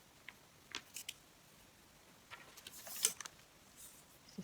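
Scissors snip through elastic cord while a homemade fabric face mask is being made: a few quiet, sharp cuts in otherwise near-silent surroundings, with no talking.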